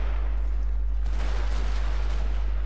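Gunfire rings out in a Total War: Shogun 2 Fall of the Samurai online battle as muffled rifle volleys and scattered shots crack over a constant low rumble.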